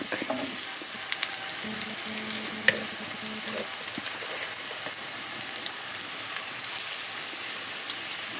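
Cabbage and egg cutlets fry in a pan with two or three spoonfuls of oil, giving a steady close crackling sizzle with scattered sharp pops throughout.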